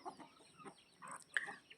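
Chickens and chicks clucking and peeping while pecking at grain in a village yard, a few short calls and soft clucks close by, fairly quiet with no talk.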